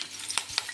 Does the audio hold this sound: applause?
no